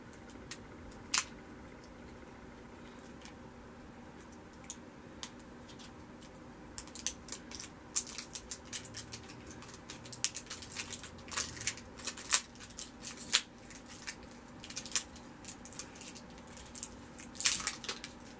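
A Lip Monthly product package is opened with quiet crinkling, tapping and scratching of packaging, irregular small clicks growing busier toward the end, faint and close in a quiet room.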